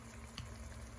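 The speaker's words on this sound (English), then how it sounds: "chicken wings, drummers even. Sizzling away." Buffalo chicken wings and drumsticks sizzle as they cook, giving a brief, steady, close crackling hiss with no voices over it.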